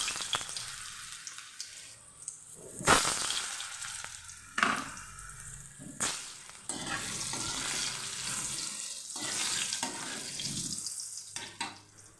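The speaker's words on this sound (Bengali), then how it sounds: "তাহলে চলো তেলটা গরম হলে ফার্স্টে আলুগুলোকে ভেজে নিই।" Potatoes fry in hot oil seasoned with salt and turmeric, a close, continuous sizzle broken by several sharp stirring clatters and scrapes against the pan.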